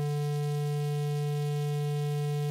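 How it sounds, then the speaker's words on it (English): A continuous buzzy tone from a symmetrically distorted sine wave, with a strong low fundamental and a stack of audible overtones, steady and unchanging throughout. "Now I'm going to distort it symmetrically."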